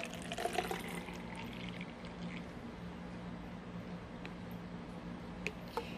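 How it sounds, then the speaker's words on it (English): Water trickles and splashes into a glass holding a sweet potato tuber propped on toothpicks, a faint, close pouring sound with a few small drips and clinks toward the end. "and add some water"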